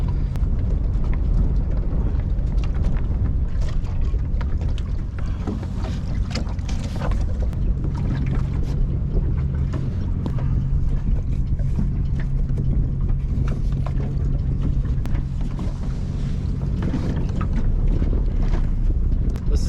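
Steady wind blows across open water beside an anchored boat in 10-knot breeze, a constant broadband rush with low buffeting on the microphone, loud and unbroken throughout with no voices.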